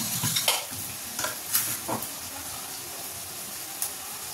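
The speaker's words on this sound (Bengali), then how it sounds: "চলো পেঁয়াজটা লাল লাল করে ভাজা হোক" Onions fry in a pan with a steady close sizzle, broken by a few quick scraping stirs near the start.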